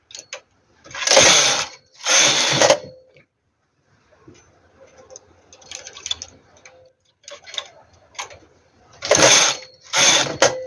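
Domestic knitting machine carriage swept back and forth across the needle bed knitting rows of a school sleeveless sweater, four loud broadband rasping passes in two pairs with quieter clicking between them, heard alone.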